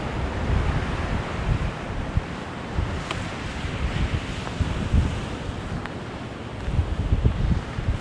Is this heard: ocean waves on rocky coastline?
yes